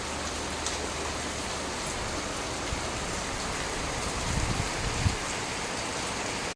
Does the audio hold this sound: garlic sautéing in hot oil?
no